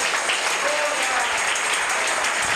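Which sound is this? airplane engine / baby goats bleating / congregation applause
congregation applause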